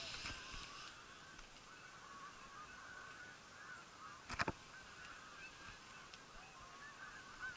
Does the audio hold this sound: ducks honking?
yes